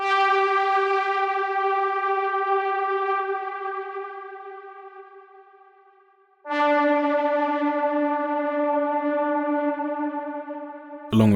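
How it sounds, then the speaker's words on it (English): Anthemic synth in a hip-hop beat: two long sustained chords, each swelling in with echo and distortion and slowly fading, the second starting at a lower pitch, with no drums underneath. "I then used this synth type sound, which I use in a few of my beats"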